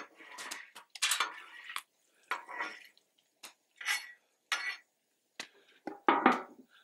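Metal scraping and clinking as popcorn is stirred in oil on a Blackstone griddle, in irregular short bursts with pauses between, close and fairly quiet.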